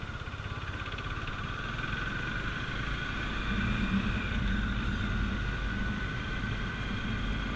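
A Bajaj Dominar 400 motorcycle being ridden hard, its engine giving a steady tonal drone with a low rumble that rises slightly in the middle, under heavy wind rush and with no speech.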